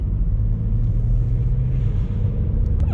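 A 2013 Vauxhall Astra 1.4 SRI accelerating in second gear on a country road, a steady loud engine drone and road rumble heard from inside the cabin, continuous throughout.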